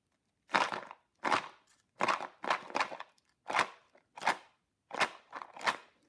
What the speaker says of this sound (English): here is the plastic one filled with almonds. It's now all covered up with my beautiful decoration. Let's give that a shake.